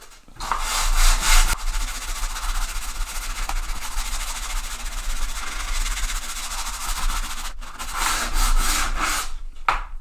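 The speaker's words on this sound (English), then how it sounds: "the first thing we need to do is sand this down a bit because it's a bit rough and ready around the edges" Rough wooden pallet being sanded down at its edges gives a loud, steady abrasive rasping that runs almost continuously, with brief pauses near the end.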